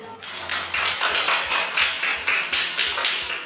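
An audience at a pantun gathering claps in a fast, even rhythm, with bright, close applause running throughout and no pauses.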